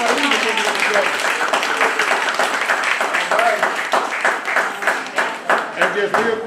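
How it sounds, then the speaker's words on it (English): An audience claps in a broad, continuous wash at a local seniors' event, the applause steady and fairly loud for several seconds before thinning into looser, separate claps near the end. "So let's give her a round of applause."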